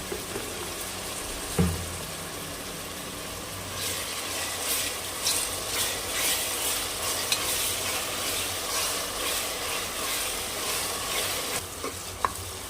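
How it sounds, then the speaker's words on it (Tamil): Onions sautéing in a pan for a gravy, a steady close sizzle with scraping stirs and light clinks throughout, no voices. "வெங்காயம்லாம் நல்லா வதக்கினாதான் நல்லா இருக்கும் கிரேவி."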